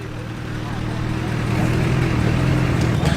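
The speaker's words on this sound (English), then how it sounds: "Making quite the entrance, that is a 1958 Oldsmobile 88." A 1958 Oldsmobile 88 rolls in at a classic car event, its engine a steady low rumble that swells gradually as it approaches, with voices talking in the background.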